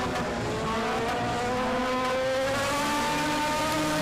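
Race cars roar around Dixieland Speedway, engines revving and whining with rising and falling pitch as the cars pass, loud and continuous with no speech.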